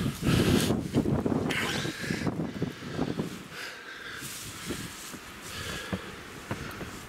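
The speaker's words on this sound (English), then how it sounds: "It's really windy up there." Strong wind at The Maze buffets the microphone in heavy, rumbling gusts that ease off partway through, leaving a steadier roar with occasional rustling.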